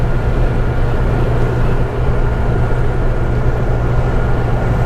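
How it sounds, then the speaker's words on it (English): A Morris 1100S cruises at about 91 km/h, its engine turning near 3650 RPM, giving a steady, loud droning hum with low tonal rumble and road and wind roar that hold constant throughout. "The motor's turning over at 3650 RPM, something like that."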